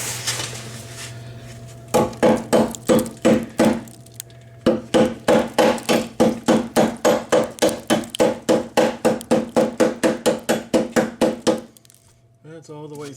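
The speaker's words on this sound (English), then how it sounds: "I need to get a body hammer." A body hammer pounding the metal body of a 1994 Saab 9000, sharp loud ringing blows struck in fast, even bursts, two long runs with a short pause between.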